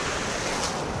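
Ocean waves surge onto Murudeshwar beach, a continuous loud wash of surf blended with gusty wind noise across the whole brief moment, with no voices.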